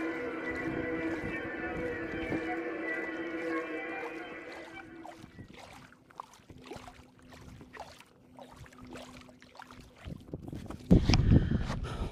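Paddle strokes from an inflatable kayak on Florida's Withlacoochee River sound as repeated soft splashes and drips, with a steady hum at the start that fades out and a louder close knock near the end.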